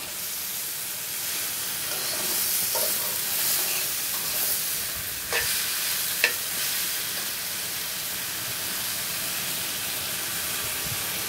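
Gima shak greens stir-frying in a pan: a steady, loud sizzling hiss throughout, with a few faint clinks of a spatula against the pan.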